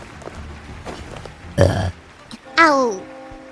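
A VTuber lets out a loud, drawn-out burp that slides downward in pitch near the end, after a brief grunting vocal sound and some quiet background chatter.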